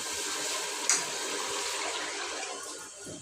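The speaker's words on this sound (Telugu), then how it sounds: "బియ్యం నానేసిన దాంతో రెండు నీళ్ళు పోసేస్తా" Water pours steadily from a container onto soaked rice in a pot for pulao. It makes a continuous close rushing splash with one small clink near the start.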